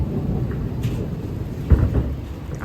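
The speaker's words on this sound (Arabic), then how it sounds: "عم تسمعوا اصوات الرعد" Rain falls steadily at a market while a low rumble of thunder swells once near the middle, heavy and fairly close, over the constant patter.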